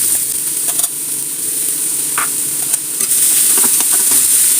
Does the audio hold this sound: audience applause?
no